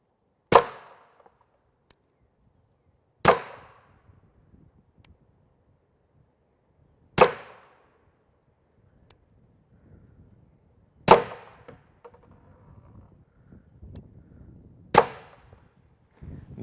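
Five sharp, loud pistol shots from an M&P 5.7 firing 5.7x28mm 55gr FMJ rounds at an outdoor range, evenly spaced about four seconds apart, each a crisp crack with a short echo and near-silence between.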